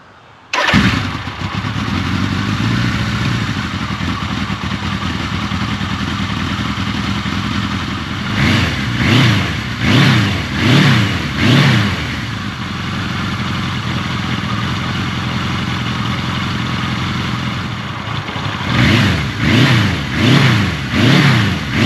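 A carbureted classic motorcycle engine cold-starts with a sharp catch, then settles into a steady idle while it warms up, broken by two clusters of quick throttle blips, loud and close with no talk.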